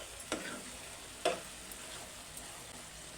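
Salt and coriander powder being stirred into a bottle gourd curry, giving a faint, soft sizzle with two brief scraping strokes of a spoon against the pot.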